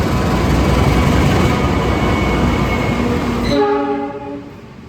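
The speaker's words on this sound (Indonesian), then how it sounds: "Ini keretanya persiapan masuk" A Surabaya–Pasuruan commuter train rumbles loudly past at close range while arriving at Wonokromo station, then a sustained horn tone rings out as the rolling noise drops away and it slows.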